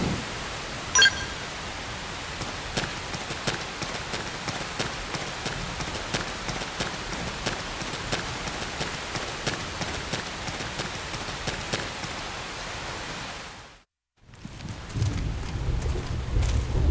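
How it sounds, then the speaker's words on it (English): Rain falling in the Xenoblade Chronicles X video game, a steady soft hiss of rain with faint scattered taps that cuts out briefly near the end and then returns heavier. "The rain's starting to let up, just in time for sunrise."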